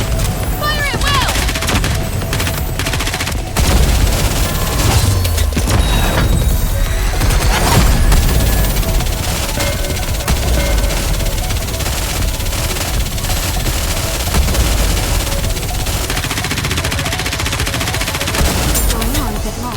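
Sustained gunfire volley in Nikke: Goddess of Victory, dense rapid shots rolling on without pause for about twenty seconds, loud and close, with crashes and occasional voices mixed into the battle.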